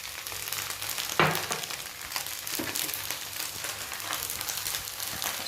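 Chicken schezwan fried rice sizzles steadily in a hot pan as chilli sauce goes in, with a sharp hiss flaring near the start and a continuous crackling fry throughout, no voices.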